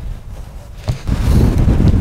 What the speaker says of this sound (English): It's so windy. It is really, really windy here.